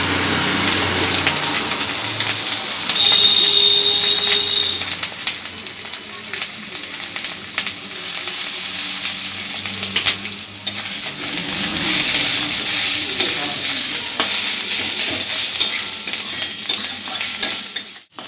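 Loud, continuous sizzling of onion paste frying in hot oil, with occasional stirring scrapes, close by and without talk.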